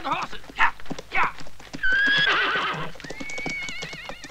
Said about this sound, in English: Get on the horses